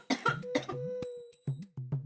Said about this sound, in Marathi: लई ताप व्हायला लागलाय बघा या खोकल्याचा.